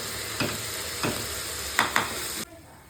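Masala frying in oil with ash gourd in the pan: a soft steady sizzle broken by four scraping stirs of a spoon, close, before the sound cuts off near the end.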